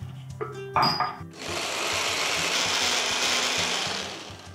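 A mixer grinder blends green chutney with salt and water in one long, loud, steady whir after a brief clatter and short bursts at the start.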